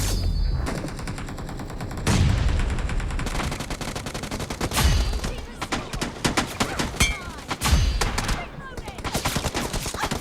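Gunfire rings out in a shooting video game, rapid close bursts and single shots with sharp thumps recurring throughout, fairly quiet overall, with someone talking in between.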